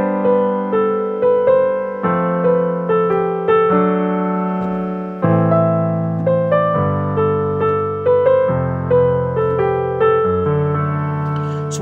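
Synth chord progression with a borrowed major chord, bright plucked chords repeating in even rhythm, changing chords every couple of seconds, clear and upfront with no talk.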